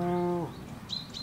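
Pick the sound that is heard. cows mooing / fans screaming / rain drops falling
cows mooing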